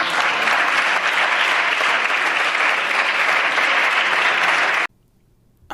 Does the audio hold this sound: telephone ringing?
no